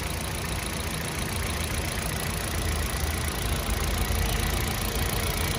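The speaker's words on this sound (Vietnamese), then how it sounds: "máy này rất là chất nhá. Không bị rung lắc gì cả và tiếng máy lổ nó không bị ồn." A 2011 Hyundai Accent with a 1.4-litre engine and manual gearbox idles steadily and smoothly at close range, a constant even hum with no voices over it.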